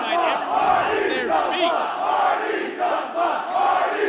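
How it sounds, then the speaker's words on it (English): A wrestling crowd cheers and roars continuously at a live house show, loud and sustained with people on their feet, with no break in the noise. "Listen to this crowd here tonight."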